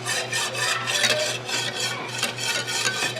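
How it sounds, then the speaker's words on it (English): A whisk scrapes steadily around a pot of roux, a close, continuous rhythmic rasping and stirring with a low hum underneath and no talking. "So we want to whisk this non-stop."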